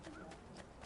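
Horse in the video game Assassin's Creed 2, a quick, faint run of clip-clop hoofbeats under a soft game background.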